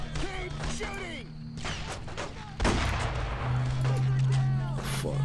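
Gunfire in the World War II shooter Brothers in Arms: Road to Hill 30, repeated rifle and machine-gun shots with booming impacts over continuous battlefield rumble, a voice talking over it.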